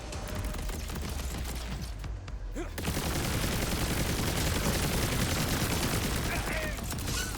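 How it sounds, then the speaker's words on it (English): Dense, continuous gunfire and blasts fill a chaotic Borderlands 4 firefight against swarming creatures in a mine, a brief lull near the start giving way to sustained loud shooting and explosive bursts. "Let's get some grenades going here."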